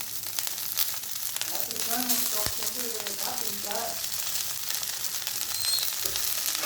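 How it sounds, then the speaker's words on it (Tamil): Curry leaves sautéing in hot oil, giving a dense continuous sizzle and crackle throughout, close and fairly loud, with faint stirring scrapes and a low voice briefly mixed in. "கருவேப்பிலை போட்டு கருவேப்பிலை வதங்கினோடனே கொத்தமல்லி போடுறோம்"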